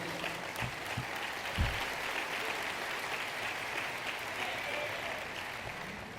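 Strong applause from a church congregation at a sermon, sustained dense clapping throughout, with a few louder thumps near the start.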